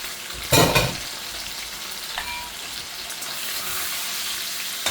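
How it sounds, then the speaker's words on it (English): Liver steaks sizzle and crackle in bacon grease in a pan, with a sharp burst of spattering near the start, then a steady softer frying hiss. "they're frying right on top of that bacon grease"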